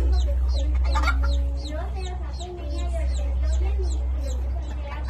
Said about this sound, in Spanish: ¿Cómo dicen los pollitos, hijo? Mira los pollitos.